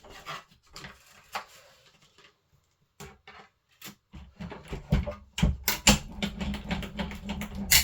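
Scissors snipping around a stamped paper image for a card, with irregular crisp cuts and paper rustling close up, growing busier and louder toward the end.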